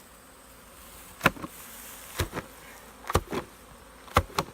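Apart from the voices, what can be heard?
honey bees buzzing around a hive frame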